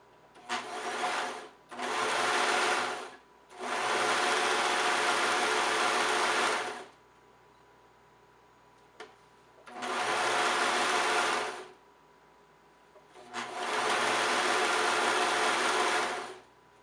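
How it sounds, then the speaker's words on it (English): Sewing machine running a straight seam on a kimono beach cover-up, five loud, close bursts of rapid mechanical whirring separated by short quiet pauses. "And then I just sew straight down one side."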